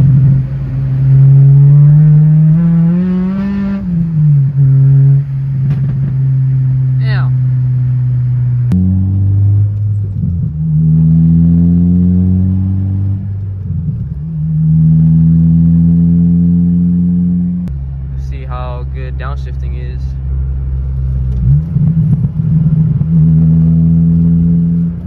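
An Acura RSX accelerates hard through the gears on a rainy road, its engine note climbing steeply, dropping at each shift, then rising again, loud and close from inside the car.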